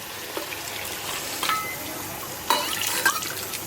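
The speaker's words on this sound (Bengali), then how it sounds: "এখন সিদ্ধর জন্য পানি দিয়ে দিচ্ছি" Water poured into a cooking pot of chicken and potatoes frying in oil: a soft hissing background with two short splashing bursts of pouring, close by.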